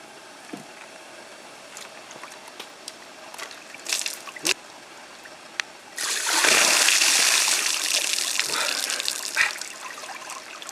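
Cold water poured over a person, a sudden loud rush of splashing and running water that lasts about five seconds after a few faint drips and bumps, then trails off into trickling.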